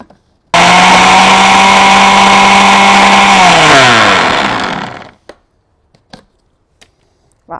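An electric blender whirs loudly for about four and a half seconds, mixing toum garlic dip with olive oil and lemon juice, its pitch dropping as it spins down, followed by a few faint clicks.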